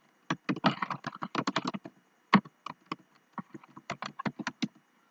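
Computer keyboard keys are tapped in short irregular bursts and single clicks, close and clear, with brief gaps between words as text is typed into a page layout program.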